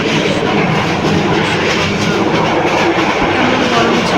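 Train bound for Cox's Bazar on a railway ride, a loud continuous rumble with rhythmic clickety-clack of the wheels and rushing wind noise, heard up close from inside the car.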